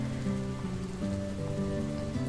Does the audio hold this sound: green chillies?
no